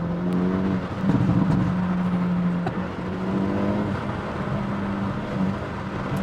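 A Hyundai Elantra N engine is revved hard at high RPM up close, a loud buzzing drone that swells and dips in several pulls without any talking.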